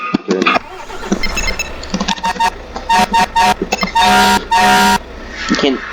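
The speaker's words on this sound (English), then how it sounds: "You can't get in a fire truck and not honk the horn." In Garry's Mod, a fire truck's engine turns over, then its loud air horn blasts in several long, repeated honks. A voice talks over the engine between the blasts.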